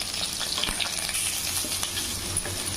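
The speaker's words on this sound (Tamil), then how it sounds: "பூண்டு கொஞ்சம் நல்லா வதங்கிருச்சு" Garlic fries in butter in a hot pan, a steady bright crackle with occasional soft clinks, no voices.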